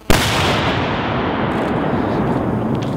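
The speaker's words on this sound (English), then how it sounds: "The next device is what we call a mortar or an aerial shell." A firework mortar aerial shell fires with a sudden loud boom, followed by a long rumbling, crackling roar that sustains for several seconds.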